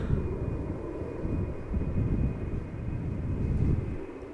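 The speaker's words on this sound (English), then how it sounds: "Next up is an Embraer 190 going to Cork." Embraer 190 airliner at Amsterdam Schiphol Airport, a steady low engine rumble with some wind buffeting that rises and falls gently throughout.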